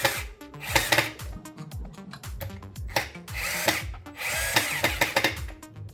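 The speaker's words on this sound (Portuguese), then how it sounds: "eu já coloquei os parafusos, os dois, aí eu vou só descer eles aqui" A power drill drives two screws down into a wooden stand for a self-watering cachepot, with several short whirring bursts separated by brief pauses, loud and close.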